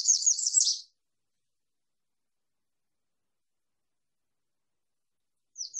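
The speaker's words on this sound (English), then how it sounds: "This is an American redstart." An American redstart sings a short, high, rapid series of chirping notes at the start, then silence, with a brief fragment of song returning at the very end.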